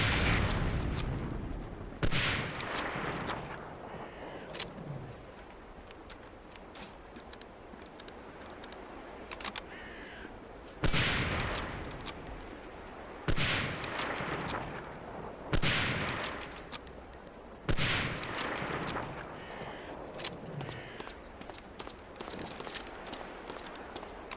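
Gunfire on a training-camp shooting range in the video game Medal of Honor: Allied Assault, with several loud sharp shots spaced irregularly over a steady background hiss, some followed by short bursts.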